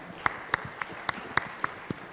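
Sparse, evenly spaced hand claps, about seven sharp claps, ring out in a quiet room at moderate distance, like a small audience giving a brief round of clapping.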